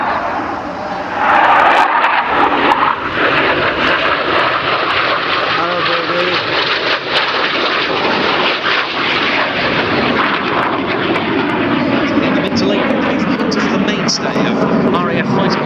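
A Hawker Hunter jet roars past at the East Fortune airshow, a loud, broad, continuous engine rush that swells and holds throughout, with a commentator talking over it on the public address.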